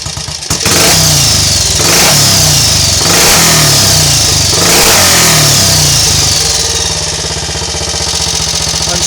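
A Triumph Scrambles Cub replica motorcycle engine runs loud and close, its single-cylinder beat rising and falling in repeated throttle blips before settling toward a steady idle.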